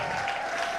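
A church congregation breaks into brief, dense applause in acclaim of the Lord, a short burst of many hands clapping together in a large room.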